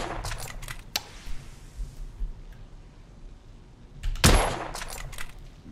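Several sharp Mosin rifle gunshot cracks in the game The Order 1886, a few early ones and a loud blast near the end, over a low rumbling background.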